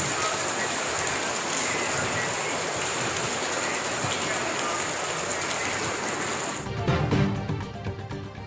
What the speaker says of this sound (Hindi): लाहौर के मुख्तलिफ इलाकों में कहीं तेज कहीं हल्की बारिश